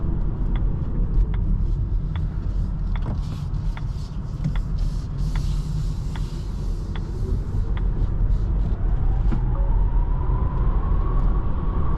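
A 2025 Volvo EX30 Twin Motor Performance Ultra electric car driving on the road and making a U-turn, with steady tyre and road rumble and a regular faint ticking running through.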